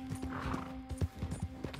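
Horse hooves clip-clop at a steady walking rhythm in the Red Dead Online video game, fairly close and clear, with a faint whinny-like tone and a steady hum underneath.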